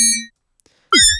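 Sytrus 3 laser synth patch: a bright harmonic tone cuts off, then after a short gap a new zap sweeps sharply in pitch with a metallic ring, loud and close, with no talking.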